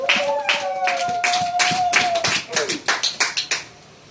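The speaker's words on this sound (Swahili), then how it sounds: "Hebu nisikie makofi kwa ajili ya Bwana." A congregation claps along during a prayer meeting, a quick run of hand claps under a sustained voice, with the clapping turning into distinct, separated claps toward the end.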